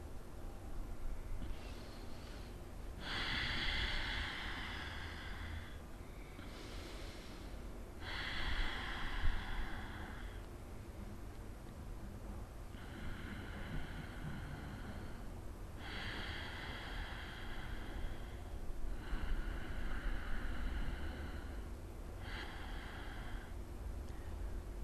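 Vyutkrama Bhastrika yogic breathing, with a series of forceful nasal snorts and sniffs in repeated bursts, separated by pauses. The sound is close and quiet over a faint background hum, with no speech.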